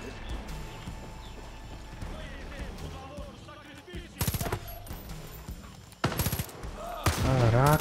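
Bursts of rapid gunfire in Far Cry 5 crack loudly and close, separated by stretches of talk.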